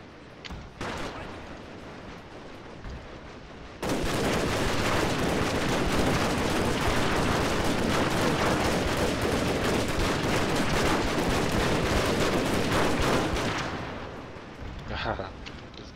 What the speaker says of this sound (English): I just hope they will come in range with to the Gatling guns here.